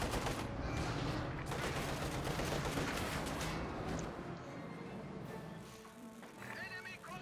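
A T-34 tank fires on infantry in Company of Heroes 2, giving dense rattling bursts and booms across a busy battlefield mix, with a commentator talking over it.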